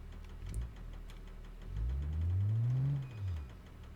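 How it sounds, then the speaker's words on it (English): A damaged car engine knocking after a crash in BeamNG.drive, a low rough rumble that swells in the middle and fades, heard alone without talk. "our engine's knocking now, as you can probably hear in your left ear if you're wearing headphones"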